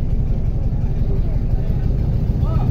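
A car engine rumbles low and steady at close range as the clutch is let out with little throttle, a continuous heavy drone with a slight rise near the end.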